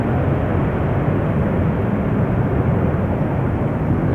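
An airliner climbs away from Amsterdam Schiphol Airport with its gear retracting, giving a loud, steady, broadband jet roar that holds evenly throughout with no talk.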